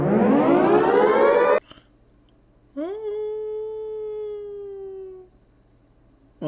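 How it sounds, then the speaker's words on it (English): A loud air raid siren wails, rising in a long sweep, cutting off, then winding up again to a steady howl before fading. "The air raid siren might have been the final sound they ever heard."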